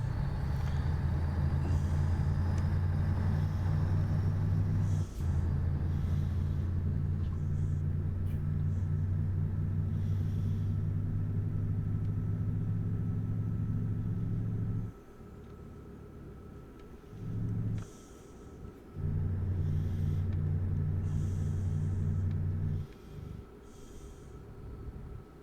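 A heavy truck engine drones steadily while driving in Euro Truck Simulator 2, a low, constant rumble that drops away briefly a few times and then returns, with faint clicks over it.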